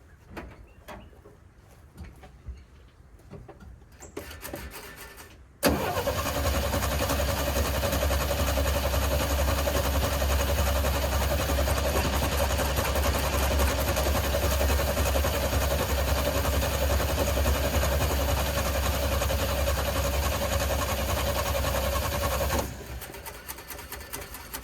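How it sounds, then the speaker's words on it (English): A 1967 Chevrolet C10 truck engine cranks without catching, a steady, loud, continuous churn lasting about seventeen seconds after some quiet handling noises, then cutting off. "We're gonna go ahead and just start cranking on it and see if it'll pop off."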